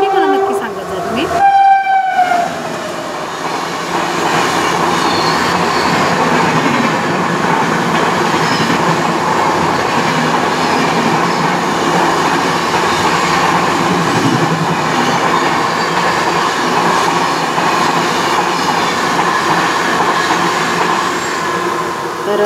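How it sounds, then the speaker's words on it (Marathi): At Malavali railway station near Lonavala a train blares its horn in a short burst at the start, then rumbles past loudly and steadily for the rest, wheels clattering and squealing faintly over the continuous roar. "इथं रेल्वे स्टेशन असल्यामुळे मिनिटाला गाडी असते लोणावळा मळवली स्टेशनला"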